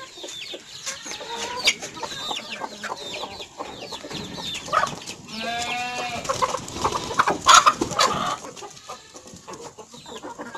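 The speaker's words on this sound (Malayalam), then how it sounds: "എൻ്റെ കോഴികളെ നോക്കാം." A flock of native and BV380 chickens in a poultry shed clucks and cackles continuously, several birds close and overlapping, with a louder burst of cackling near the end and no talk.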